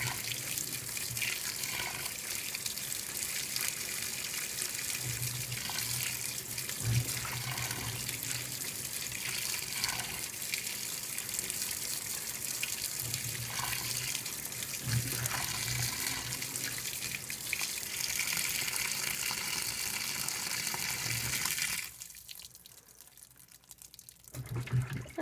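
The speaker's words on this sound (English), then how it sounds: "It's not a lot of water, but knowing our washing machine, it still gets the clothes clean." Water pours steadily into an LG top load washing machine as it fills, a continuous rushing hiss that runs for over twenty seconds before cutting off near the end, with no talk over it.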